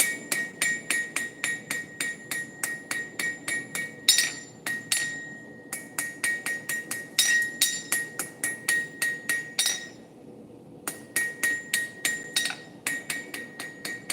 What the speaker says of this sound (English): Overlapping planishing blows.